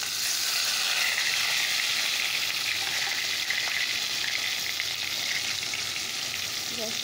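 Onion and tomato dropped into hot oil for a spiced greens dish, a loud, steady sizzle that continues without a break, close by.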